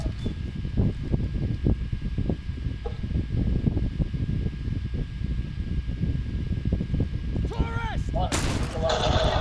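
Gunfire from the video game The Last of Us crackles as a rapid series of sharp shots against a steady ambient backdrop, with a brighter burst near the end.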